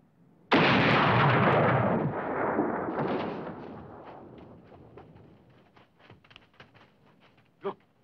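Firing squad volley in a Hitchcock film: one sudden loud burst of rifle fire that booms and decays over a couple of seconds, followed by fainter scattered pops and clicks.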